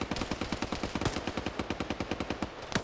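Sustained suppressing gunfire in a military video game, a rapid even stream of automatic shots, about eight per second, at moderate level for under three seconds with one heavier crack near the end.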